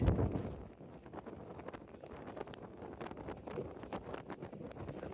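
Wind gusting around a sailboat riding at anchor in the Bahamas, a steady broadband rush with faint creaks and knocks from the boat, fairly close and continuous with no voices.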